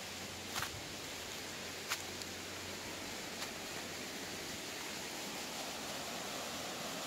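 Slightly murky stream water flows at a fishing spot with a steady, even rushing hiss that fills the whole stretch, broken only by a few faint clicks.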